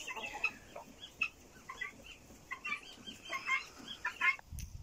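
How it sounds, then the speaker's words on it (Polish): A laying hen, just off the nest after producing an egg, clucks in short repeated bursts outdoors on a farm, moderately close, with brief pauses between calls and no talking. "kurka, która przed chwilą zeszła z gniazda, ponieważ zniosła jajko, już tutaj je"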